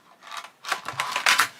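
Rattling, clattering bursts as a deep teal colouring pencil is tugged and wiggled free from a tight tray, three scraping clusters over under two seconds, close and fairly loud.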